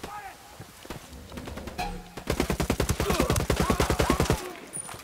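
Rapid automatic gunfire from Ghost Recon Wildlands rattles in a dense burst of evenly spaced shots, loud and close, preceded by a few scattered single shots with a voice talking early on.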